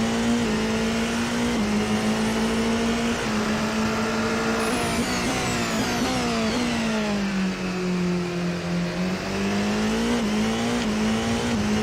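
Race car engine in a racing video game on a push lap, a loud continuous high-revving whine rising and falling through gear changes and corners, steady and close throughout with no talk.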